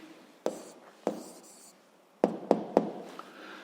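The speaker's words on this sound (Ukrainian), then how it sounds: "Записуємо відповідь, пишемо відповідь." Pen strokes and taps on paper while an answer is jotted down for a physics sled-mass problem, a handful of sharp, close scratchy ticks spaced irregularly against near silence.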